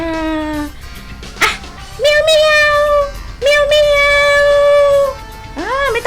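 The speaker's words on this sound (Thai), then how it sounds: "เสียงร้องของ แมวนะลูกแมวร้องเมียวเมียว" A cat meowing several times, long drawn-out cries with a rising, wavering final call, fairly loud and close.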